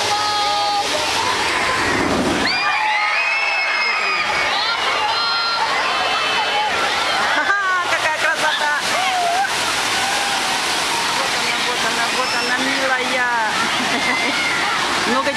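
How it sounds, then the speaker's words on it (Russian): A wave pool at a water park in Orlando, Florida, sends a wave surging out with a continuous rushing, sloshing roar, layered with the distant shrieks and chatter of a crowd of swimmers. "Вот сейчас отсюда будет вырываться волна."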